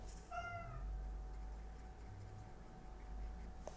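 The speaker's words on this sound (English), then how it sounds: "that little cat sound you hear in the background." A cat meows once, a short rising-falling call early on, over a low steady background hum; the rest stays quiet.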